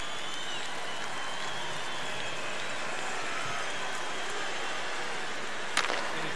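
Crowd cheering and noise fill an ice hockey arena in the NHL 15 video game, a steady dense roar from the home fans after a fight, with a sharp burst near the end.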